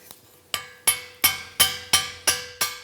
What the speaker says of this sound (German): Mit dem Meißel kann ich den Schraubenkopf wegspitzen.